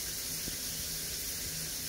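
Steady running water from a tap during a Bengal cat's bath, a continuous even hiss that fills the moment without pause, fairly quiet and close.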